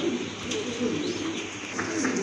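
Pair of red checker Roman pigeons cooing softly and continuously at close range, low throaty murmurs blending together over a faint background hum.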